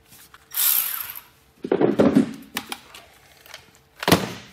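A Milwaukee power tool snugs a rear brake bolt on a 2008-2019 Ford Taurus, giving a few short bursts of whirring and clattering ratchet noise close by, separated by quiet gaps, with no talking.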